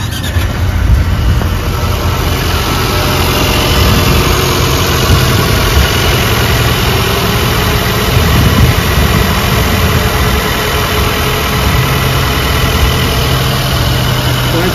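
A 2023 Mercedes-Benz CLA engine idling steadily up close, a smooth, even mid-range hum with a constant high whine throughout, no voices.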